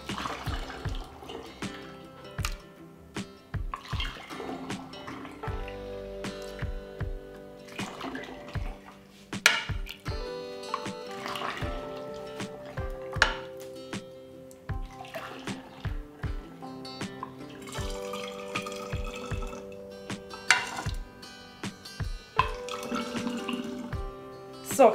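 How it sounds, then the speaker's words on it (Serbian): Homemade juice is poured into sterilized glass bottles, with a steady trickling, gurgling flow broken by frequent small clinks and taps of glass throughout. "ovako pripremljen sok sipat ću u prethodno sterilisane i čiste flaše"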